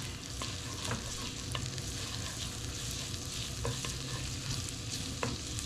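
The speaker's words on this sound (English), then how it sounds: "We're gonna get this garlic sauteed up" A single garlic clove sautéing in a pan while it is stirred gives steady, close frying sizzle. Stirring clicks and scrapes sound throughout, and nobody talks.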